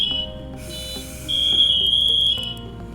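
At a fire department, a firefighter's motionless-alert alarm sounds a loud, shrill continuous electronic tone for about a second, preceded by fainter high beeping, with no one speaking.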